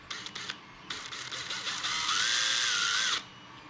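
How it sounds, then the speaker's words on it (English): A drill bit reams out a 3D-printed plastic spacer for an RC outboard motor in short bursts of high whirring, then a longer steady grinding run of about a second before it stops. "I gotta chase this with my drill bit a little bit."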